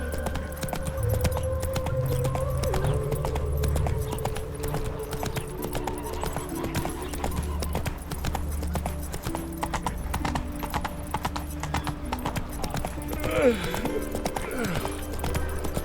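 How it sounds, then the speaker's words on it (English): In The Witcher 3, the horse Roach gallops along with a fast, steady clip-clop of hooves that runs throughout, while background game music plays and a voice speaks now and then. "Run, Roach"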